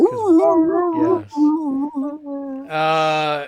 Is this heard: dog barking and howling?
yes